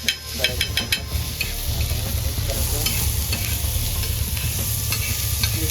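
Onion, tomato and chilli sauté loudly in a pan for a homemade prawn sukat recipe, with a dense continuous sizzle and a few sharp stirring clicks at the start.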